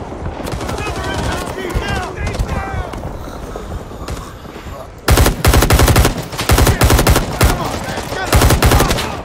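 Sustained bursts of automatic gunfire laying down suppressing fire in the Vietnam War video game Rising Storm 2: Vietnam, loud rapid volleys dominating the second half after a stretch of quieter distant shots and battle noise.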